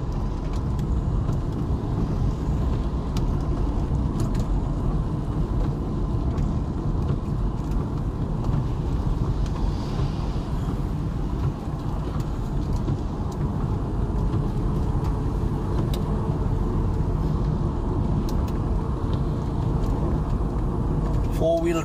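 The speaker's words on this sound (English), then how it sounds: "Four-wheel drive." A four-wheel drive vehicle travels along a road in the rain, producing a steady, loud low rumble of engine and tyre noise that continues without a break. Faint voices may sit beneath it.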